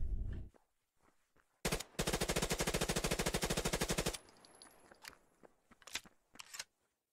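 A P90 submachine gun firing in the video game Fear the Wolves, a long rapid burst of evenly spaced loud shots lasting over two seconds, framed by quieter footsteps and handling clicks before and after.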